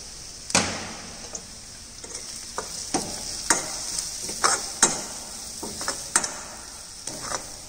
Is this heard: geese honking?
no